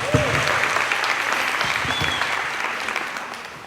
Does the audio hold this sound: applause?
yes